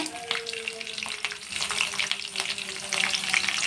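Green chillies and chana dal fry in hot oil for mango rice, giving a steady, close sizzle with occasional stirring scrapes throughout and no talking.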